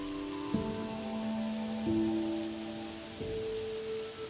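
Gentle rain falling at night as a steady soft hiss, low and even throughout, with soft sustained background tones layered underneath.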